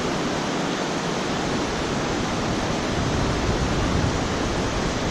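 Water flowing steadily through an autumn landscape, a continuous broadband rush like a stream or small waterfall, fairly close and even throughout with no voices.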